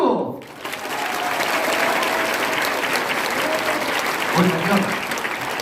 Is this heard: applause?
yes